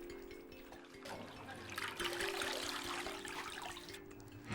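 Tap water runs steadily over blanched Chinese cabbage being cooled, a close, continuous splashing wash with a low hum beneath and no voices.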